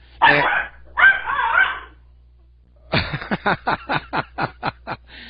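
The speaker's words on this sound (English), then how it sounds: "My dogs." Dogs bark in a home during a live radio talk show: after a few seconds of someone speaking, about ten sharp, evenly spaced barks ring out, fairly close and loud.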